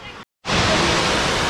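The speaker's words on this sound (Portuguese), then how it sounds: "chegamos perto da cachoeira agora aqui do Recanto Feliz" At the Recanto Feliz natural swimming spot, a waterfall pours with a dense, even roar. It drops out for a split second, then returns loud and constant.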